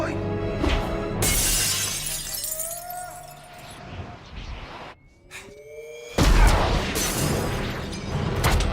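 Iron Man armor effects from a scene in The Avengers film: a dense, loud stretch of crashing, shattering metallic impacts, rising whooshes and mechanical sweeps that briefly thins out, then surges back in full.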